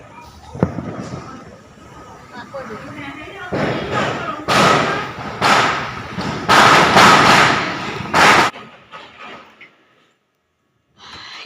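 Firecrackers explode during Diwali night celebrations, a rapid series of loud close bangs and thumps bunched in the middle, preceded by a single sharp pop and followed by near silence.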